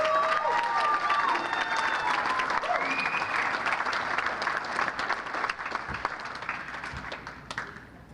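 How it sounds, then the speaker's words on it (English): At a sports hall of fame enshrinement banquet, an indoor audience applauds steadily with scattered whoops and cheers, the clapping loud at first and gradually fading out. "How many tickets did your cheering section buy, Angie?"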